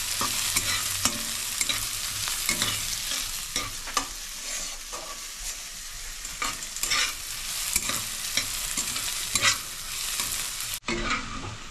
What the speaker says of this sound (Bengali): দেখুন পেঁয়াজ আর আদাটা এতটা পরিমাণ আপনারা ভেজে নেবেন